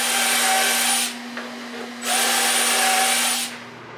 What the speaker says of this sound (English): just go ahead and drill the holes as you go along